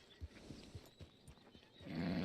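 A horse in the open-world video game Red Dead Redemption 2, with steady clip-clop hoofbeats at a walking rhythm, then a louder rustling, whinnying noise swelling at the end.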